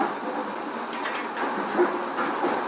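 Steam locomotive 7827 Lytham Manor stands at the Paignton depot on the Paignton and Dartmouth Steam Railway, giving a steady, close rumbling hiss with soft mechanical clanks and no voices.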